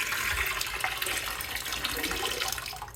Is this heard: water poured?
yes